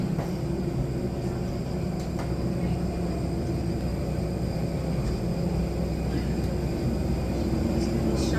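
Steady, broadband engine roar fills an airplane cabin at a constant level throughout, a dense drone with faint higher whine and occasional soft clicks.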